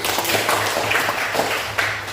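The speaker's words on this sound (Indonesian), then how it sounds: "kita beri tepuk tangan dulu" A classroom group gives a brief round of clapping, scattered and uneven hand claps close by over a steady background hum, with no talking.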